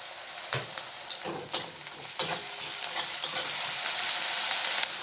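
Onion and ginger paste frying in a pan for a country chicken curry, a steady sizzle with several sharp stirring scrapes and clatters near the start, close and fairly quiet, no talk.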